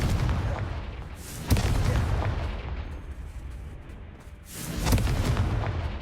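A fiery Confringo spell explodes in the Hogwarts Legacy video game with a dense, rumbling blast. The sharp boom hits early, then a second surge of rumble and debris follows near the end.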